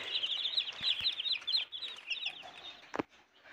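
About sixty newly hatched chicks in an incubator keep up a continuous high, bright peeping chorus, close and busy, with a couple of soft knocks in the background.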